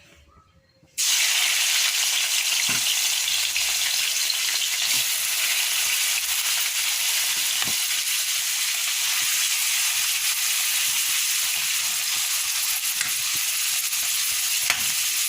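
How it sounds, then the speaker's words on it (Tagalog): After a brief quiet start, marinated meat hits a hot pan and sizzles loudly and continuously while being sautéed for ginisang ampalaya, with occasional soft stirring clicks, close and without speech. "tayo magigisa na nga guys unahin ko muna tong karne"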